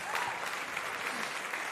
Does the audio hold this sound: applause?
yes